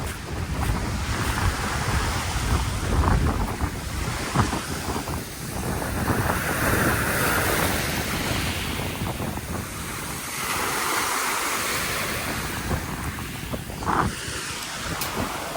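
Sea waves wash and break steadily on a UK beach, a continuous surf roar with gusts of wind buffeting the microphone throughout.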